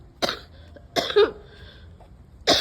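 Three separate coughs, close and fairly loud, with short quiet gaps between them and no talking.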